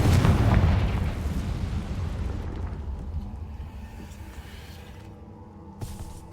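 A Confringo fire spell from Hogwarts Legacy, played on PS5, goes off as a loud booming blast up front. Its rumbling roar then decays slowly over several seconds, and a small crack follows near the end.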